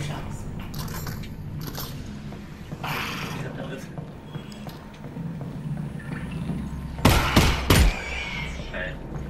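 Gunshots from the VR video game Half-Life: Alyx, several sharp bursts clustered close together near the end, preceded by softer in-game rustling and mechanical noises in a fairly noisy background.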